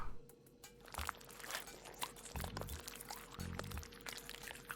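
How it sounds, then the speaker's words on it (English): Malt poured into a brewing pot in the Brewmaster beer brewing simulator, a continuous grainy rushing pour with two crunchy bursts, heard alone at low level. "Pour the whole thing in."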